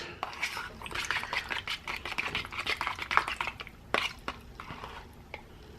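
Sour cream going into cake batter for a sour cream lemon blueberry cake, with soft wet plops, scraping and clinks of a utensil against the bowl in irregular bursts, close and fairly quiet.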